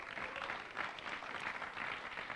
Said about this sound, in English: let's give Bob and the team a big applause